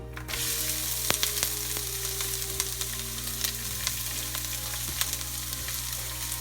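Sliced onion stir-fries in oil in a frying pan for Korean japchae. A loud, steady sizzle holds throughout, with occasional sharp ticks of stirring close by.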